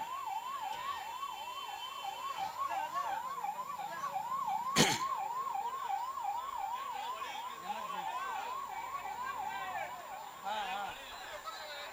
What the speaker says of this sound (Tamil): 108க்கு வழி விடுங்க.